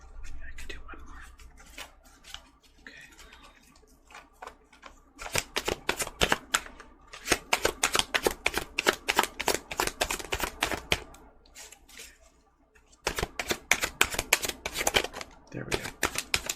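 Tarot cards are shuffled in rapid bursts of crisp riffling clicks, with a quiet stretch at the start and a pause before a final burst.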